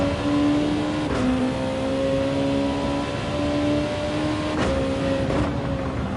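A racing game car engine holds a steady high drone at constant revs, with brief shifts in pitch and faint clicks, loud and continuous around the Maggiore circuit in Gran Turismo.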